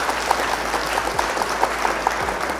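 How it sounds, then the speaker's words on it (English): Steady applause with a low hum underneath runs through the whole stretch during a live Flesh and Blood card game stream, with faint tonal blips and short chirps riding over it. "Round of applause to my opponents"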